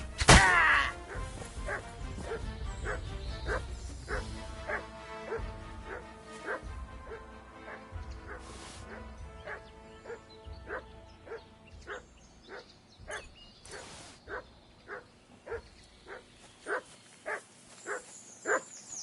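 A dog in Kingdom Come Deliverance 2 barks and yips in a steady, repeating rhythm for many seconds, mixed with whimpers. Game ambience sounds underneath, and the yips grow louder toward the end.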